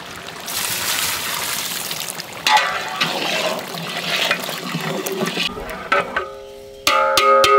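Water poured into a large pot of Arabian-style mutton biryani, a steady splashing, trickling rush close by that runs for several seconds before ending in clattering metallic sounds.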